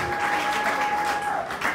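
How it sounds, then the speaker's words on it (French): A church congregation claps loudly together in a dense, continuous burst of applause. "Acclamons très fort les seigneurs."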